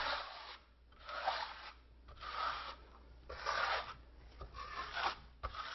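Drywall broad knife spreading a thin bond coat of dry-set thin-set mortar over a shower tray, close-up scraping and rubbing strokes repeating in a steady rhythm of about five passes, with short gaps between them.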